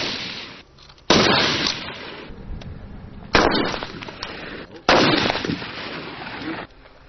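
Sharp gunfire bursts from a precision shooting event at a military reconnaissance training competition, three loud reports spaced a couple of seconds apart, each with a long rolling echo, heard outdoors without talk.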